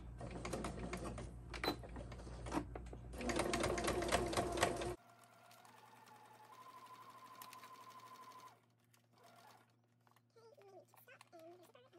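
A sewing machine stitches a zippered pouch seam at a 1/8 inch allowance, running in two close rapid mechanical bursts; then comes a quieter stretch with a faint hum and a soft voice.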